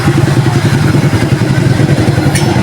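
A Suzuki Shooter 115 FI motorcycle engine runs after an overhaul, idling close and loud with an even, rapid pulsing chug and no knocking or rattling, alone throughout.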